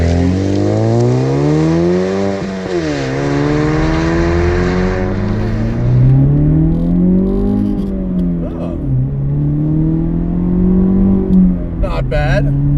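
A 2016 Chevrolet Camaro with the 2.0-litre turbo four accelerating hard, engine revs climbing in loud rising sweeps through several gear changes, heard from inside the car.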